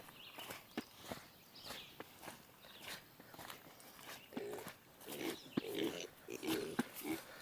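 Pigs in a rain-soaked farm pen grunt and snuffle in short, low bursts close by, with scattered footsteps and shuffling in between; the sounds are fairly faint.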